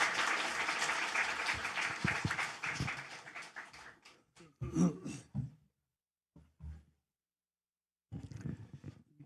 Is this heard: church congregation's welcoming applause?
yes